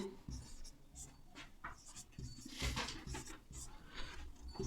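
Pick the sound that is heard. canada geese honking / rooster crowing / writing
writing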